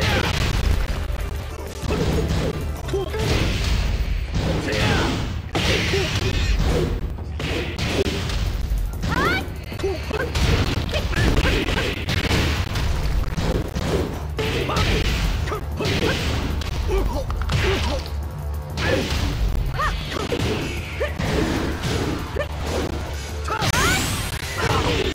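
Tekken 6 fighting game match, Asuka Kazama against an ultra-hard ghost opponent: a steady run of loud punches, kicks, smashes and swooshes over busy in-game music and effects for the whole round.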